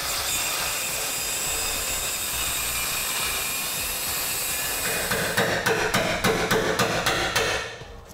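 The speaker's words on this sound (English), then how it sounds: "we're gonna take a cutting wheel and break these welds to pop it loose" A cutting wheel grinds through welds holding a steel cup on a 2009 vehicle's frame during an air helper spring installation, with a loud, continuous, harsh whine that ends in a series of rapid rhythmic bursts.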